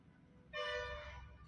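A bus horn on a road at Bommanahalli, where a wild elephant is stopping buses at a checkpoint, sounds one loud, steady, bright blast of about 0.7 seconds over quiet background rumble.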